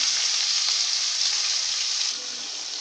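Masala-stuffed brinjals frying in hot oil, a loud, steady, close sizzle that eases slightly toward the end.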